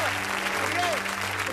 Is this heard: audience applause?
yes